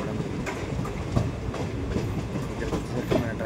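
The Guntur–Aurangabad Express runs with a steady rumble and rhythmic clickety-clack of wheels over rail joints, heard from on board at an even, moderately loud level.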